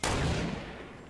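A single gunshot in the video game Fortnite, a sharp loud blast followed by a fading rumbling tail lasting about a second.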